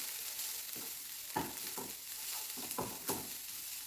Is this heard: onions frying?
yes